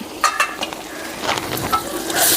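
Chicken stirring and frying in a pan with green chillies: a steady hiss of sizzling oil broken by repeated scraping strokes of a spoon, close and fairly loud, with no talking.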